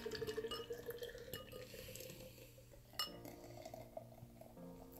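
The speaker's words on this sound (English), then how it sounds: "We're gonna Nitro pour this baby." Nitro-style Nytro craft beer from 42 North Brewing Co. pours hard into a glass, a continuous splashing, gurgling stream with light glassy clinks and a sharp knock near the middle, close up and without talk.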